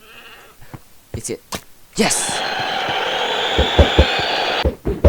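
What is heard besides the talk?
goat horn played in Minecraft-style video game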